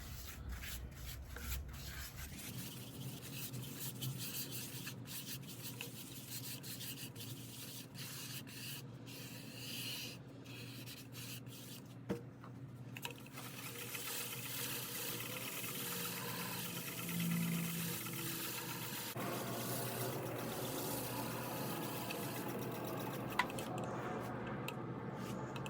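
Abrasive paste rubbed onto a spinning ambrosia maple bowl on a lathe gives a soft, continuous scratchy friction over the steady hum of the machine, fairly quiet, with a few faint clicks.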